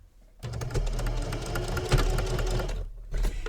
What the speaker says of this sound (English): and then I'm going to go ahead and sew.